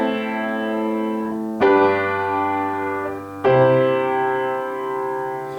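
Three sustained piano-like chords sounding in turn, submediant to dominant to tonic, each struck cleanly and left ringing before the next one enters, with no talking.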